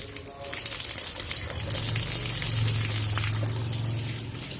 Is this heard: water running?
yes